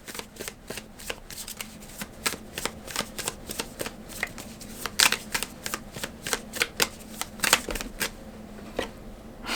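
An Animal Apothecary oracle card deck being shuffled by hand: a steady run of crisp, close flicks and riffles, with no talking.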